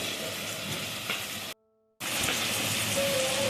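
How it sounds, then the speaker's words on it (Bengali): Onions frying in a pan for mutton curry, a dense, steady sizzle and crackle up close, broken by a brief half-second of silence before the hiss resumes just as loud. "ভালোভাবে পেঁয়াজগুলোকে আমি এখানে ভেজে নেব।"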